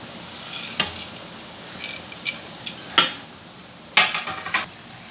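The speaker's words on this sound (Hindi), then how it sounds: "ये देखिए हमारा पानी बॉयल हो गया। अब हम इसके अंदर नूडल्स डालते हैं।" Noodles dropped into a pot of boiling water and stirred, with soft bubbling and several sharp clinks of a utensil against the pot, close and without talk.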